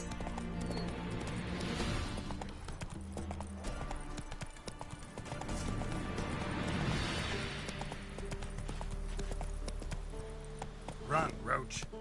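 Roach, the horse in The Witcher 3, gallops with rhythmic, close hoofbeats and occasional whinnies, set against game music and ambient sound. A voice speaks over it.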